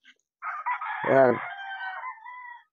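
A tall, handsome rooster crows once, loud and close, its rising call stretching out into a long trailing tail, with someone speaking briefly just before.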